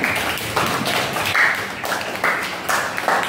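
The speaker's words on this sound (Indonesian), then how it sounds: "Tepuk tangan untuk Gildan" Applause for Gildan at a school presentation, a steady patter of scattered hand claps from a small group lasting a few seconds with no talk over it.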